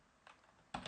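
Two quick keystrokes on a computer keyboard while a command is entered in a terminal, soft, close clicks spaced about half a second apart in a quiet room.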